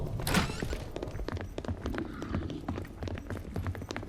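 Footsteps in a monster-photographing video game, a quick run of soft thudding steps under game ambience, with a brief sharper burst near the start.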